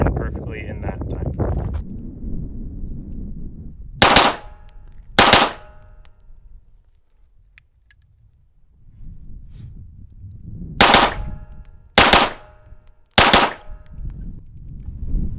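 Handgun shots ring out sharply at an outdoor practice range, two close together, then a pause, then three more in quick succession, each loud and near over a low wind-blown background.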